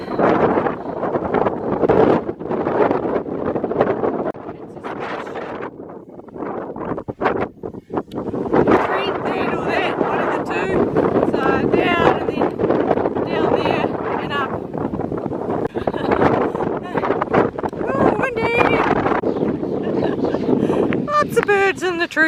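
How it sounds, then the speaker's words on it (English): A strong headwind buffets the microphone while walking uphill inland on the Heysen Trail, a loud, gusty roar rising and falling with a voice heard intermittently over it. "Big headwind. Hard work uphill and headwind."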